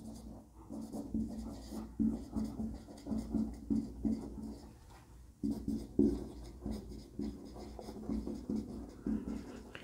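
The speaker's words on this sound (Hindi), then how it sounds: "यहाँ पे लिखेंगे एक दो सेंटेंस पहले" Steady scratchy writing on a classroom board, a few sentences' worth of strokes in rhythmic bursts with brief pauses, close and fairly loud, without speech over it.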